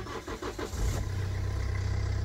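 A Toyota Yaris D4D diesel starts by push button: a brief starter crank leads into the engine catching, then a steady, close diesel idle that runs to the end.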